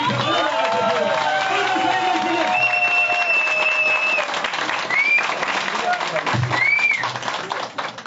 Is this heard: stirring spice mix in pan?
no